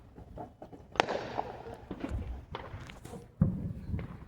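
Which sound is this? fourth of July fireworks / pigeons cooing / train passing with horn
fourth of July fireworks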